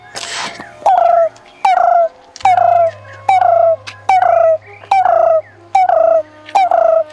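A man mimics bird calls with his voice, producing about eight loud, evenly spaced calls, each a quick rising-falling whistled yelp, close to the microphone with a faint hum in the background.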